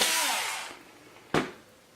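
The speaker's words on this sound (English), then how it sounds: "We're going to drill our pilot hole into the wood." A power drill bores a small pilot hole into wood, a high whirring burst that winds down over the first second, followed by a single sharp knock.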